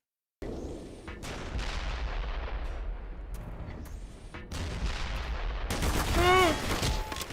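Gunfire in the video game Black Mesa, a dense run of shots and booms filling the clip at steady loudness, growing heavier toward the end with a burst of tonal effects.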